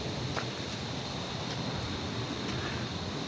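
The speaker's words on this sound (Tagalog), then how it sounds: "maingay yung tubig." Loud, steady rush of flowing water in a dense forest, a constant broadband roar filling the whole stretch with no clear breaks, close and enveloping, with no talking.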